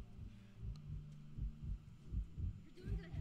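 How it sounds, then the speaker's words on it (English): A steady, low heartbeat from the video game The Last of Us thumps in a regular rhythm of about two beats per second, soft and muffled over a faint hum, with no voices. "I can hear his heartbeat in my headphones."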